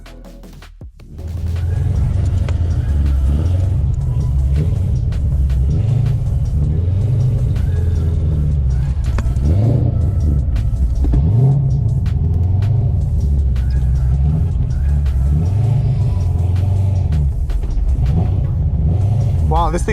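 A Corvette C6 Z06 with a naturally aspirated V8 of over 650 hp idling roughly at a track, with a loud, close, lumpy rumble that surges and dips in a regular loping rhythm after starting up.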